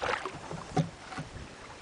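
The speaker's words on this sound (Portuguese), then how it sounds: "canoa de pau." A wooden dugout canoe paddled along a river without a motor, with soft splashes and water movement under light wind noise and one brief nearer knock.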